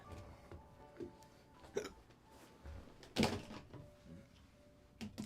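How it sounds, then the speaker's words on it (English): Soft hiccups from a person tidying up paints after painting, a few brief muffled jerks spread over several seconds against quiet room noise. "Oh, I have hiccups now."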